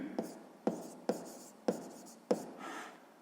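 A pen writes out the answer to a sixth-grade math exercise in a notebook: five short, distinct scratchy strokes spaced about half a second apart, close and fairly quiet, with no talking.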